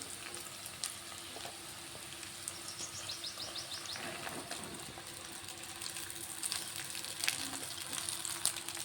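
A lemon rice tempering sizzles faintly in a pan, with soft stirring scrapes and occasional clinks over a low steady frying hiss.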